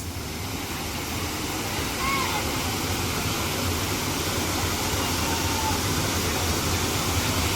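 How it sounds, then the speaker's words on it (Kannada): Mookanamane Abbi Falls, a waterfall near Kukke Subramanya, roars as a steady, dense wash of rushing water that fills the whole clip at an even, close level. "ತುಂಬ ಸುಂದರವಾದ ಈ ಫಾಲ್ಸ್."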